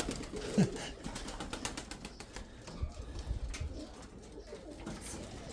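Young pigeons coo softly close by in a backyard setting, with low, murmuring calls among rustling and light background noise and no speech.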